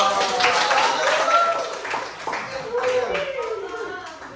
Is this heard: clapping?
yes